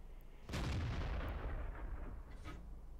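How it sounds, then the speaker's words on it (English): A T69 tank in World of Tanks fires one heavy cannon shot, a sudden deep boom that rolls into a long rumbling tail. A fainter thud follows near the end. "Took a speculative shot there"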